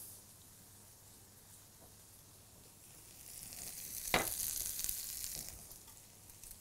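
Oil being poured over potatoes in a baking tray, a soft background hiss that swells into a brighter sizzle and splatter midway, with a sharp crackle near the peak, no voices.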